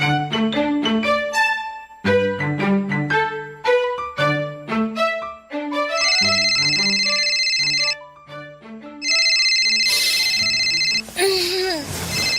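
A telephone rings with an electronic tone in repeated bursts, loud and close, with a stretch of a bright two-tone ring pattern near the end, ahead of an early-morning call.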